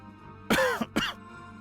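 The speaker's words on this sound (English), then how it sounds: "sorry about the cough" Someone coughs twice in quick succession, close and sharp, with a rough throat-clearing quality over a faint steady background hum.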